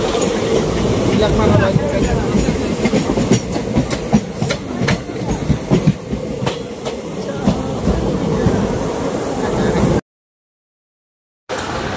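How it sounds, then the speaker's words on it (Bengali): A local train rolls into Boko station, loud and close, with rhythmic wheel clatter over rail joints and a rumbling undertone; a brief dropout near the end. "আমাদের ট্রেন লাহালে ঢুকছে বকো স্টেশনে।"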